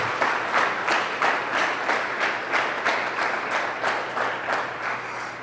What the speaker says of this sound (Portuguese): Você pode aplaudir bem forte o Senhor